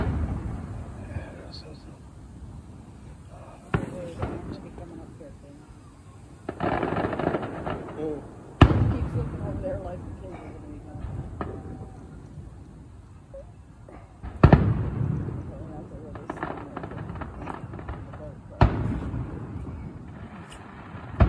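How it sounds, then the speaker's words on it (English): Distant fireworks and firecrackers go off outdoors in scattered bursts: a few sharp reports and longer crackling clusters rumble and fade over steady wind-like background noise, with faint voices now and then. "Like firecrackers."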